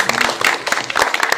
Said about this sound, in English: Would you clap?